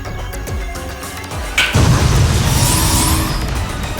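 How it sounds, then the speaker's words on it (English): Explosions in the video game Phantasy Star Online 2: a quieter stretch gives way at about 1.6 seconds to a loud, sustained burst of booming, crackling blast noise that fills the rest of the clip. "Did you just make phantasms out of explosions?"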